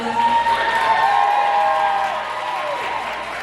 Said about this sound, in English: Can we give our refs and assistants and volunteers a round of applause?